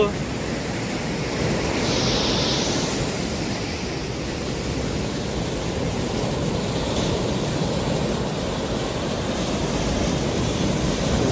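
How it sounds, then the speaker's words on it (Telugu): Sea waves wash onto the shore at night, a continuous broad roar of surf with slow swells in loudness, fairly loud and steady throughout with no talk. "సముద్రం ఎలా ఉంటుందని ఒకసారి చూడండి సౌండ్"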